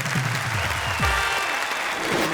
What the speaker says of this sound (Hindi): और हम उन्हें देंगे तालियां।